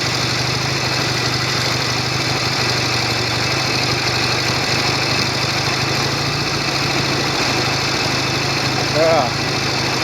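A Norton Commando 750 motorcycle with a tickover problem idles steadily while its revs sag slightly, a continuous close, loud engine drone with someone talking over it.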